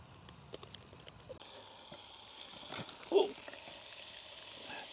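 Bacon frying in a camp pan alongside paneer cheese, a quiet steady sizzle with light stirring scrapes and one louder clatter, heard close in an outdoor wild-camping setting.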